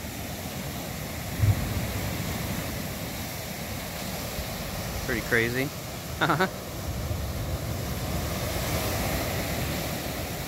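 Waves crash steadily on a rocky Lake Michigan beach, a constant broad roar with wind across the microphone. A voice speaks briefly over it partway through.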